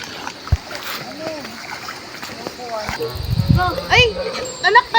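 Water splashes and sloshes as people wade across a river, with scattered splashes and a louder churning stretch later on, close, mixed with voices talking.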